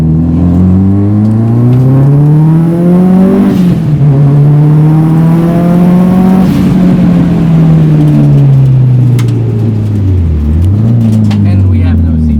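A 350-horsepower car with a Cobb flex fuel kit and tune accelerates hard from inside the cabin, its engine note climbing through gears with rising and falling revs, loud and close, while people talk over it.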